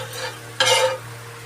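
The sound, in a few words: butter sizzling in a pan while making a veg frankie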